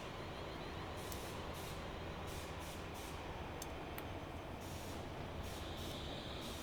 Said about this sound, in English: Where the coal train's coming in